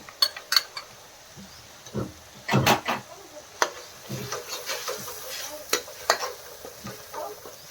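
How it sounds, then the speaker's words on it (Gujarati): Onion sautés in oil under irregular clinks and scrapes of a spoon stirring in the pan. A soft sizzle runs beneath the stirring, and brief stirring bursts come close together. "એ તેલમાં આપણે શેડવાનું ખાલી તેલમાં શેડવાનું થાય"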